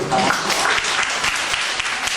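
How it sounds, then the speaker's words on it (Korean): Audience applause at a school history lecture, a dense, steady clapping from a crowd lasting a couple of seconds, loud and close. "자, 박수 한번 주세요."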